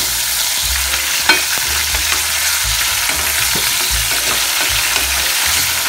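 Meat sizzling and being stirred in a frying pan for okra sisig, a loud continuous fry with scraping stirs and small clacks of the utensil, no talk.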